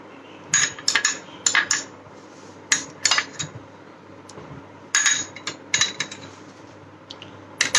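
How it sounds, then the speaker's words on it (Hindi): Cutlery and dishes clink in a home kitchen as an empty bowl is handled and Amul butter is added, with a string of sharp, close clatters and taps spread across the stretch, no talking. "अब हम ये एक एम्प्टी बाउल लेंगे, इसमें हम थोड़ा सा अमूल बटर डालेंगे"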